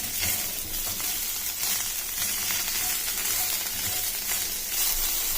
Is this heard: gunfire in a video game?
no